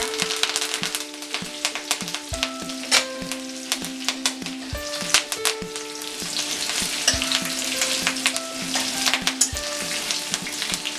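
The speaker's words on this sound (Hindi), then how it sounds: "राई फूटने के बाद हरी मिर्च डालेंगे और कड़ी पत्ता" Green chillies and curry leaves hit hot oil after mustard seeds have popped for kanda poha, and a loud close sizzle follows with scattered crackles, spatters and stirring scrapes throughout.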